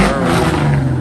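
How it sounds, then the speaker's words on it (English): Ford Mustang GT engine revving at a busy car meet, a loud, steady, rumbling exhaust note filling the whole second with no pauses. "This thing Mustang is loud."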